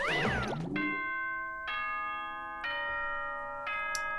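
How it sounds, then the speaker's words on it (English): A bright electronic ding-dong chime from Danganronpa 2, sounding in several sustained bell-like tones after a brief swirling flourish, loud and alone. "Ding dong, bing bong. That chime just now."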